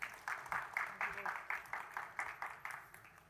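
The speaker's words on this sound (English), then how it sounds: "Let's welcome him with a huge round of applause." Applause from a conference audience welcoming a speaker on stage: steady rhythmic clapping sustained throughout, moderately distant and even in level, with no talk over it.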